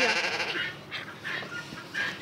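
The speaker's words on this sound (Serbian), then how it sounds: "Ovca repuje." Farm sheep bleating in several short calls, with about three bursts spaced roughly half a second apart against light background noise, fairly close and moderately loud.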